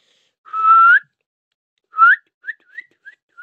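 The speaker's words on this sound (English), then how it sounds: "whistle. Please whistle." A person whistles during an online zombie game: one long held note, a shorter rising note, then four quick chirps, loud, close and alone against silence.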